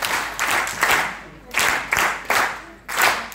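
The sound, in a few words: audience applause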